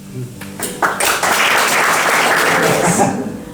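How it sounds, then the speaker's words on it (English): Talk opens briefly before an evening Great Big Green Week audience erupts in warm, steady applause that swells after the first second and holds loud and full to the end. "give a great round of applause"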